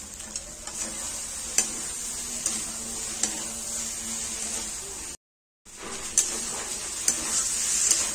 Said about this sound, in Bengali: পটলটা ভালো মতো কষানো হয়ে গেছে।